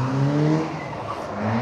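A kit car fitted with an S2000 engine drives a circuit at the Stoneleigh kit car show, its engine note rising and falling as it passes at moderate distance, steady and fairly loud with no talk.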